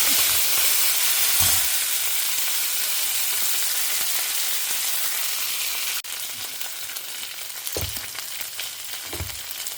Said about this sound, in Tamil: நம்ம இப்போ கடுகு, உளுத்தம்பருப்பு, கடலப்பருப்பை தாளிச்சிக்கலாம்.